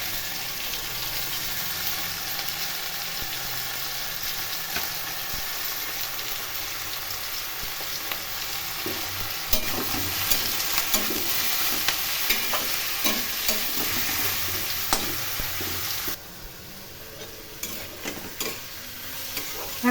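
A paste of ground cumin, coriander and chilli with salt and turmeric sizzles steadily in a pan for a rohu fish and vegetable curry, with repeated close stirring scrapes throughout and a brief quieter stretch near the end.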